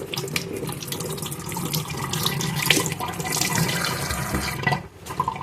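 Tap water runs steadily over a piece of fresh, ripe tree-picked fruit being rinsed under a faucet, a continuous splashing stream that cuts off near the end.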